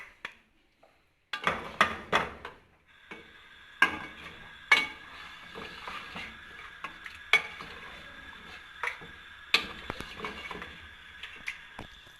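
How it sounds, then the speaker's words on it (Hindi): Mutton with ginger garlic paste sautés in a pot, a steady faint sizzle under repeated sharp clanks and scrapes of a spoon stirring against the metal, the knocks spaced irregularly every second or so. "ये मटन हम इसके अंदर डाल देंगे और अदरक लहसुन का पेस्ट और इसे थोड़ी देर भूनेंगे"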